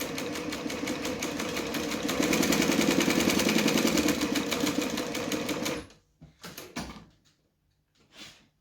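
Sewing machine stitching at a rapid, steady clatter for several seconds, close and clear, stopping abruptly and followed by a few short clicks and knocks.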